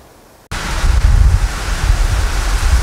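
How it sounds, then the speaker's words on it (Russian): Strong wind roars and buffets the microphone with heavy low rumbling gusts, starting abruptly after a brief quiet moment and continuing steadily loud. "но у нас здесь ураган"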